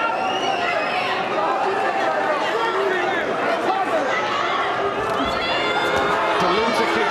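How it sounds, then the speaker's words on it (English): Boxing crowd at the Telford International Centre roaring and rising in a dense, sustained wall of cheering, shouting and chatter that swells steadily over the full stretch, loud and close throughout. "The crowd rising inside the Telford International Centre"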